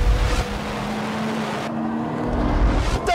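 A Nissan GT-R Skyline with all-wheel drive accelerates hard on a racetrack lap, its engine roaring loudly and steadily with a rising tone, heard close up from inside, ending with a brief sharp squeal.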